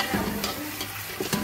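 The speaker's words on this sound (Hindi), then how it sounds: "अब इसको हम भूनेंगे बहुत अच्छी तरह भूनेंगे।" Small pieces of chicken being stir-fried in a pot, a loud close sizzle broken by a few scraping stirs of the spoon, with no one talking.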